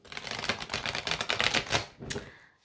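A deck of oracle cards is shuffled by hand, a rapid close riffle of papery flutters and clicks lasting about two seconds before tapering off, with no voice.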